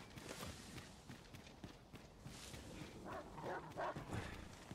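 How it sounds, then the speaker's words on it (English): Dogs bark in the video game Dragon's Dogma 2, a few short barks that come through clearest near the end over steady in-game ambience and footsteps. "And there'll be more dogs. I can hear them."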